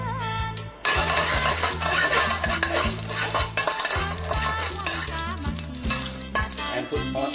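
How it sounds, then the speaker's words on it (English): Garlic stir-fried in a tablespoon of oil in a wok over very high heat, a loud continuous sizzle with repeated scraping strokes of a spatula against the metal. No speech is heard. "put on in your garlic. You want to stir it for about 10 seconds"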